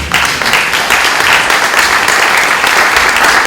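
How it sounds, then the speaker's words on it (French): Steady, sustained applause from an audience, a dense wash of many hands clapping at once, loud and close throughout. "je pense qu'on peut applaudir Michael"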